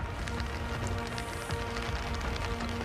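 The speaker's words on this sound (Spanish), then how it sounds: "está lloviendo fuertísimo aquí" Heavy rain falling steadily as a dense, continuous hiss of close patter with scattered sharper drops, loud and unbroken throughout.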